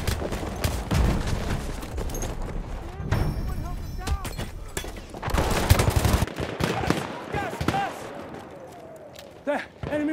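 Battlefield 1 gameplay fills with dense machine gun bursts and scattered gunshots amid battle noise and explosions, with voices talking over the continuous firefight.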